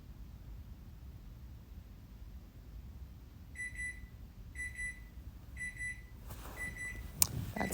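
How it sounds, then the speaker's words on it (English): A pager beeper goes off in a quiet room, sounding four short, evenly spaced high-pitched beep bursts after a few seconds of near silence, with a brief rustle and a sharp click at the end. "That's my beeper going off."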